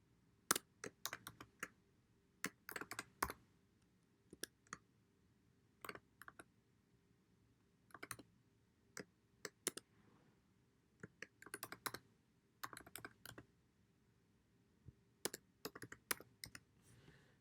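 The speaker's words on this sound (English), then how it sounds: "And I'm going to type that long URL into my feed here." Someone types a long web address on a computer keyboard, sharp clicky keystrokes coming in quick bursts separated by short pauses, close and clear with no talking.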